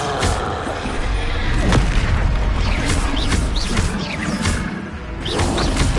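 Booming explosions from the Confringo blasting spell in Hogwarts Legacy erupt with crashes and whooshes, loud and continuous, with other spell effects layered in.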